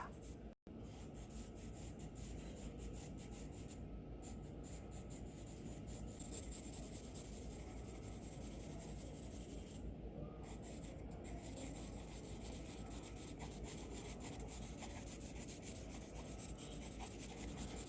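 Very faint, continuous scratchy rubbing of charcoal shading across paper while drawing a portrait, a soft steady hiss with a brief pause near the start, heard close and without talk.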